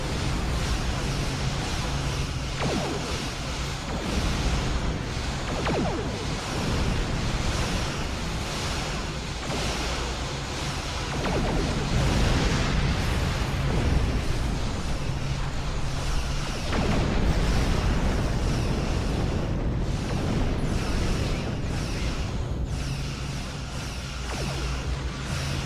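Starship phaser and torpedo fire with explosions in the game Star Trek Online, a dense, loud and continuous wash of rumbling blasts and whooshing bursts that runs unbroken throughout.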